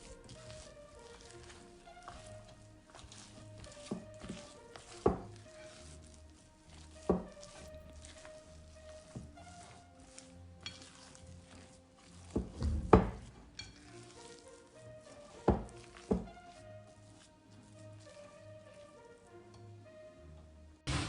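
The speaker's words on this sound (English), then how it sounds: "Mix all ingredients." Peanut butter cookie dough with chocolate chips being stirred and mixed, a steady wet, sticky churning with periodic louder scrapes and thumps of the utensil against the bowl, with no voices.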